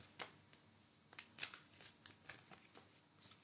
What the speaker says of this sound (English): Just going to shuffle these 2 cards for Isa.